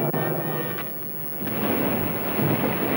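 A thunderstorm rumbles in a low, rolling roar that swells and grows louder toward the end, with rain-like noise beneath and no voices.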